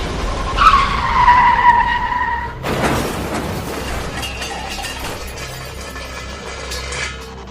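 A car skids under hard braking with a squealing tire tone, then slams into a bridge with a loud crash and shattering, followed by scattered debris and rattling as the noise fades.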